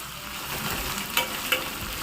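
Onions and ginger-garlic paste frying for a mutton fry crackle in hot oil with a steady dense sizzle, broken by two short clinks of a stirring spoon near the end.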